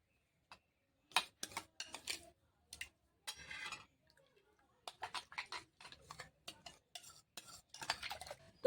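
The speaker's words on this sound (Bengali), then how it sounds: "তো এইবার দইটা দিয়ে ভালো করে মিশিয়ে নিতে হবে।" Spoon stirring yogurt culture into cooled, lukewarm milk for Bengali mishti doi, a run of quick clinking scrapes against the bowl in uneven bursts, close and fairly quiet.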